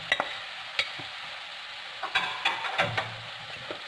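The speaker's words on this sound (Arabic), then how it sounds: "غادي ندير البصله تشحر، دابا غادي نضيف الكفته" Onion and kofta fry in a pan for a quick Turkish-style dinner. A moderate sizzle runs under repeated scraping and stirring clatters, close and fairly quiet, with no talking.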